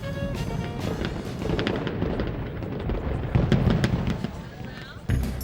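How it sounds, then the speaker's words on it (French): Fireworks over Montreal burst in a rapid, crackling barrage of sharp pops and deeper booms, with a crowd murmuring underneath. "Et aussi les feux d'artifice."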